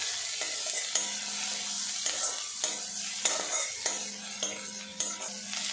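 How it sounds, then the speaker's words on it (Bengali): Chopped onion fries lightly in a little white oil in a wok, giving a steady close sizzle broken by repeated scrapes and clinks of a stirring spoon, with no voices. "পেঁয়াজটা আমি হালকা করে ভেজে নেব"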